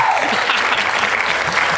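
Canned applause effect triggered from a podcast soundboard, a steady wash of crowd clapping and cheering that runs loud and unbroken through the whole stretch with no talk over it.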